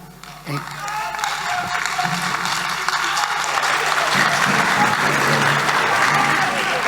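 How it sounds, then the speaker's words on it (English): An audience at a political campaign launch for a Ghanaian party flagbearer race breaks into dense, sustained applause that swells quickly and holds loud and even, with a voice faintly audible beneath it. "I can see that the women are clapping more than the men."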